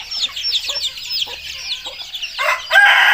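Farm chickens cluck in a busy, overlapping chorus, then a rooster bursts into a loud crow close by near the end.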